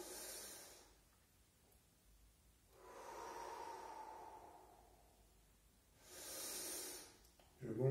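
Slow, audible breaths during an abdominal breathing exercise, inhaling to fill the belly and exhaling to hollow it: a long airy exhale, then a fuller inhale and another breath, all close to the mic.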